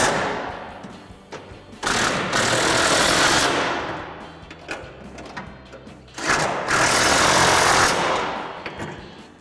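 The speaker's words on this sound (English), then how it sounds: "we can take an 18mm socket and tighten down the 2 nuts on our double bolt" An 18mm socket on a power tool tightens two nuts on a double bolt plate for a factory-style rear bumper on a 2014-2018 Silverado or Sierra 1500, in two loud whirring bursts of about two seconds each.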